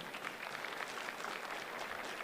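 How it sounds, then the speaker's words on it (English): Audience applause at a senior day celebration, a steady wash of clapping hands that stays fairly quiet and even for its whole length, with no voices breaking through. "Give her a warm round of applause again, ladies and gentlemen"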